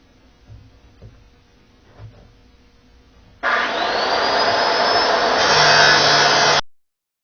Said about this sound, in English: you can grind them instead of trying to pull this stuff off